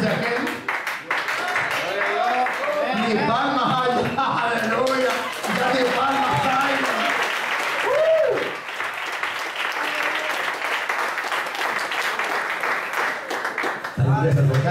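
A church congregation claps steadily and loudly, mixed with raised voices and shouts, before the clapping tapers off near the end.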